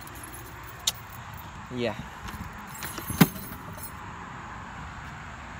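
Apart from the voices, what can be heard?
keys jangling and being dropped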